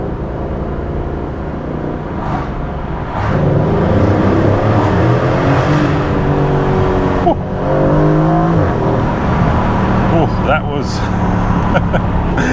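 A 500 hp Aston Martin Vantage's AMG V8 engine drones and revs under way, rising and falling as it accelerates, with voices talking over the engine noise.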